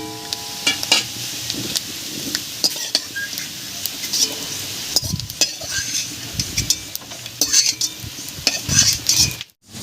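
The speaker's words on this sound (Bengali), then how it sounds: "এই তেলের মধ্যে এবারে ধুয়ে রাখা কয়েকটা কিশমিশ ভেজে নেব।" A few washed raisins fry in mustard oil in a wok, sizzling quietly while a metal spoon stirs and scrapes, with irregular clinks against the pan up close.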